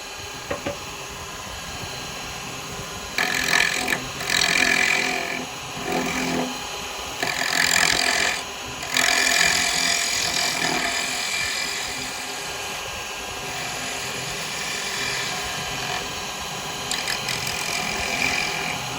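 Wooden birdhouse spinning on a woodturning lathe while chisels, including a detail chisel, cut into it, a steady motor hum under repeated bursts of hissing, scraping cuts, close and loud.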